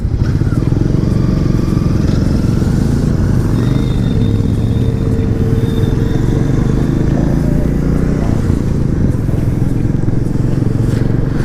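Royal Enfield Goan Classic 350 motorcycle on a highway ride with a convoy, its engine droning loud and steady with wind rush throughout, no speech.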